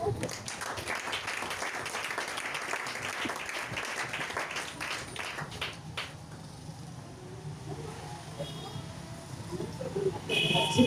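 A church congregation applauding in praise of Jesus, with a dense burst of clapping over the first half that fades into a quieter room with a low hum and some background noise.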